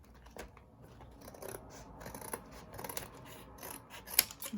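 Scissors snip through Kleenex box cardboard in quiet, close crunching cuts, several uneven strokes with soft rustling and handling between them.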